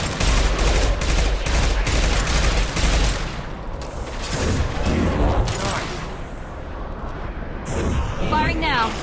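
Sustained weapon fire in the sci-fi shooter Mass Effect 2, loud rapid bursts hammering for several seconds, then scattered shots and booms with voices talking over the combat.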